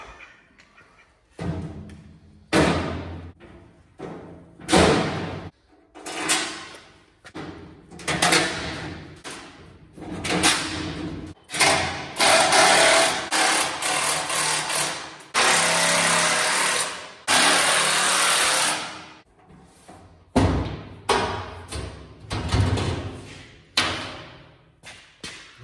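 Power tool driving bolts to fasten a tongue box onto a Harbor Freight Haul Master trailer, heard as repeated loud, rising bursts with thuds and clanks of metal between them.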